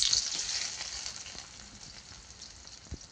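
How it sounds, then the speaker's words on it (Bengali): Chopped onions frying in hot oil in a wok, a steady close hiss of sizzling with faint stirring scrapes and a brief knock near the end. "পেঁয়াজ ভাজা হয়ে আসছে"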